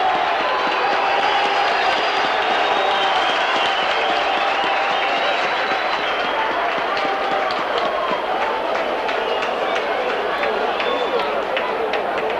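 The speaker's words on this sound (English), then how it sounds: "Gets a good round of applause from the Widnes crowd." A Widnes rugby league crowd at a Widnes versus Warrington match claps steadily in a dense, sustained wash of applause that lasts throughout, with some crowd noise mixed in.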